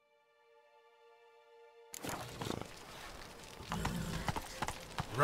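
Roach, the horse in The Witcher 3, breaks into a gallop after a quiet musical tone, with close, rapid rhythmic hoofbeats that grow louder toward the end.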